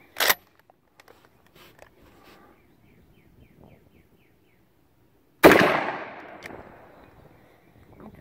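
A shotgun fires a Winchester slug outdoors as a single loud, sharp blast partway through, with a long decaying echo behind it. A brief sharp crack sounds at the very start, and there are quiet scattered noises between the two.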